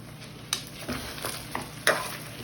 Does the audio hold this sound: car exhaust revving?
no